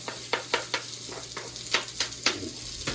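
Onion dropped into a hot curry pan for a beef curry sets off a steady sizzle and crackle, with a handful of sharp bursts over the frying hiss and no talking.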